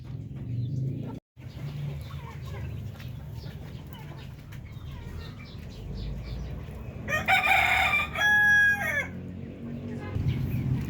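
A breeder rooster crows loudly once among clucking Filipino native chickens in a crowded pen, the crow standing out near the end over steady nearby flock chatter and low noise.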